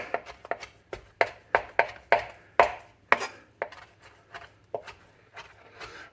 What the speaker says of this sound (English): we'll just kind of chop them up